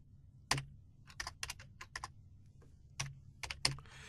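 Keys on a computer keyboard are tapped in short, quiet bursts, with a few sharper, heavier keystrokes spread unevenly between pauses at close range.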